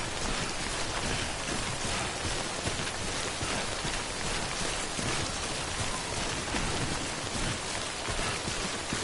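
Steady, dense rain, called timefall, pours in a video game. It is a continuous even hiss with no breaks, with no voices or other sounds over it.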